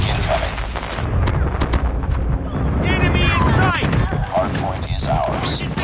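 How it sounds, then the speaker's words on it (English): Airstrike explosions and gunfire in Call of Duty Mobile, a chain of heavy booms and sharp shots crashing close and loud, with radio-style voice callouts in the game mixed in. "Friendly airstrike incoming."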